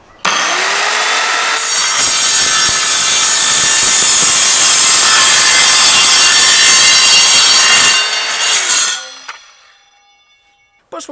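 A loud, close Evolution R185CCSL circular saw grinds steadily through wood for several seconds, then winds down with metallic ringing and rattling before falling nearly silent.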